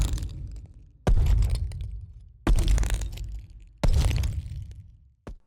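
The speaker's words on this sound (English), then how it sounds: "I found this sound effect which sounds like a giant beast walking" Three heavy, booming impacts land about every one and a half seconds, each a sudden crash that rumbles and fades slowly, like a giant beast's footsteps stomping close and loud.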